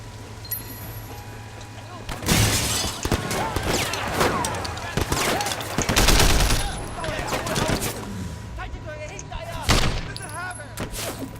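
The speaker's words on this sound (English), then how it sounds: "It took me like several shots just to get hit that stupid barrel" Gunfire in the video game Sleeping Dogs aimed at a barrel, a series of loud sharp shots and bursts with a steady low hum beneath, under someone talking.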